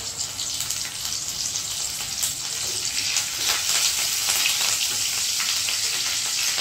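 Cumin, mustard seeds and curry leaves fry in hot oil, a loud, dense sizzle and hiss held steadily throughout, close up with bursts of crackle and spatter.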